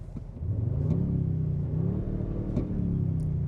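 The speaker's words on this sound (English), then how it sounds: "The engine, again, once it does start, has a pretty meaty V8-like guttural sound to it." A 2025 Toyota Sequoia 1794 Edition full-hybrid engine fires up into a low, meaty V8-like rumble, a steady deep drone heard up close and alone after a brief quieter start.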